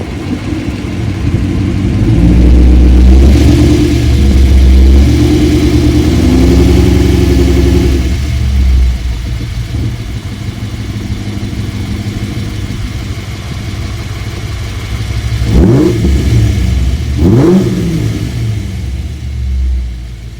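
A car engine with a suspected loose or broken rocker idles with a deep, loud rumble, revs up in the first few seconds, settles back, then gives two more quick revs near the end.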